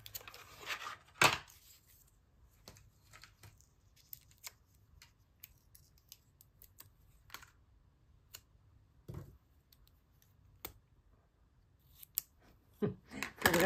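Crisp scissor snips sound at irregular intervals, some sharp and loud, others faint, with quiet pauses between cuts and no talking.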